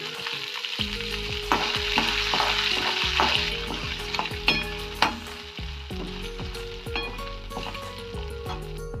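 Finely chopped ginger hits hot tempering oil already holding curry leaves, for shavige bath: a steady close sizzle with sharp bursts, broken by repeated metallic clinks and scrapes of a spoon stirring in the pan.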